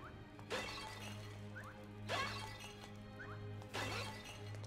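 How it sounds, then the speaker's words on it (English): In the Link's Awakening Switch game, pots shatter three times at regular intervals, each a crisp breaking crash over a quiet, steady game background hum. "that guy just goes around and smashes all the pots"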